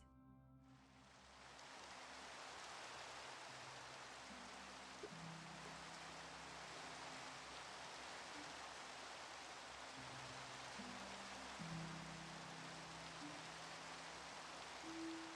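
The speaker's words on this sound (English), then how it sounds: "I just love the sound of the rain in the background" Steady rain ambience from the video game Minecraft, a dense even hiss that swells in over the first second and then holds for the rest of the stretch, with soft low musical tones drifting beneath it and no talking.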